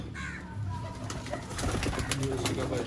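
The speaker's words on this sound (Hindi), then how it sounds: "मियां नज़ीर ब्लड लाइन और चौरी साहब वाली फीमेल, दोनों अच्छे नामों के कबूतर" Close pigeons coo softly in low, rolling murmurs, with light rustling and chirps mixed in.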